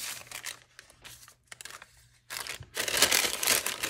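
Tough, transparent parchment paper being handled at an art table, giving several bursts of crisp crinkling and rustling separated by short pauses, with the loudest, densest crackle toward the end.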